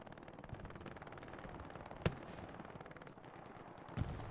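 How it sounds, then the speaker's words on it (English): Machine guns rattle back and forth in a WWII battle game set in Carentan, with steady rapid bursts at moderate distance and two sharper nearby shots standing out, no talk. "Machine gunners lighting each other up"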